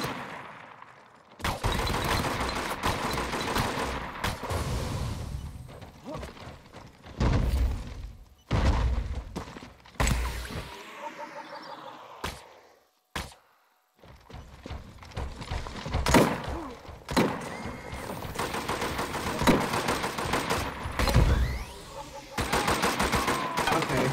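Gunfire in the multiplayer game Deathgarden, sharp repeated shots in irregular bursts mixed with other loud game effects and brief silent gaps, close and prominent throughout.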